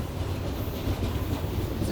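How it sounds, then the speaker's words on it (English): A long freight train loaded with coal rumbles past on the rails, a loud, steady roar with a faint clatter of wheels. "It's a gold train, guys."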